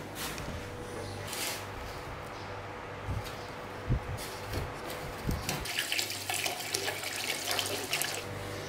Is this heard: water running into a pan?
yes